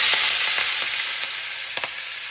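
Spinach chorchori with cauliflower, eggplant, beans and pumpkin fries loudly in a pan, a dense continuous sizzle with a few light stirring scrapes, close and without voices.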